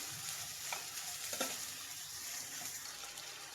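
Chopped green chillies fry with mutton in a pan, a steady soft sizzle with occasional stirring scrapes, close and moderately quiet, no talking.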